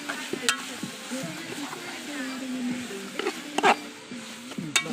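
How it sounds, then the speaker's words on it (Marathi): Mackerel (bangda) frying in a pan at an outdoor picnic party, a steady sizzle with scraping stir clicks, under nearby voices talking. "इथे बांगडे फ्राय करत होतो."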